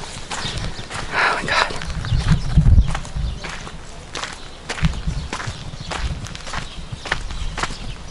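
A pony's hooves clip-clop in a steady walking rhythm on hard ground in Cappadocia, Turkey, close and moderately loud, with a brief scuffle partway through.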